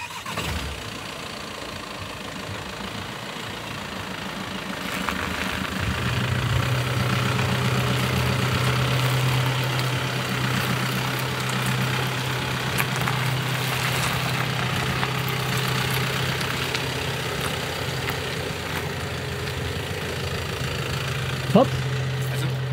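VW T6 van driving lowered on air suspension, a steady engine drone with low rumble filling the clip, close and continuous, under faint talk near the start.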